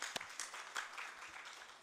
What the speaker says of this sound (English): Let us give him another clap.